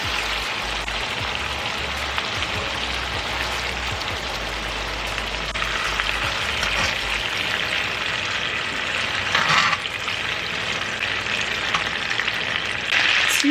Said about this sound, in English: To that, add your sesame oil and your veggies. Go ahead and stir for 4 minutes.